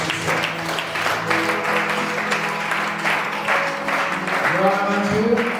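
A church congregation claps and cheers for the Lord during a French-language service, the applause sustained and fairly loud over voices and music.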